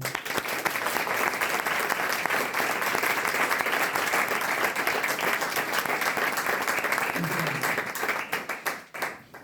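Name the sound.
audience applause at a concert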